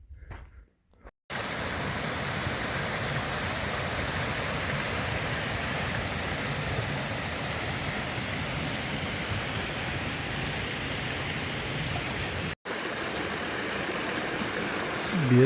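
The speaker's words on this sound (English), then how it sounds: "Beautiful stream crossing here, the bridge that I'm on." A trail stream rushes beneath a footbridge in steady, broadband flowing water noise, loud and unbroken from start to finish apart from a short cut near the start and end.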